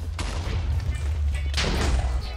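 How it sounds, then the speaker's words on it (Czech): A lightsaber grenade goes off in a video game, with a loud blast and a second sharp burst a moment later over continuous heavy low rumble. "Lightsaber granát."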